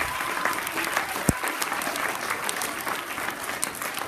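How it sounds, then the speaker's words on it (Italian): An audience applauds in the Teatro Moruzzi in Noceto, steady dense clapping filling the hall at even strength throughout, with no talk over it. "Un applauso per tutti."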